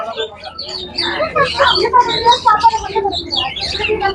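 Busy, overlapping chirps and tweets of sparrows, continuous and fairly close, with some faint talk mixed in, at Zoo Atlanta, USA.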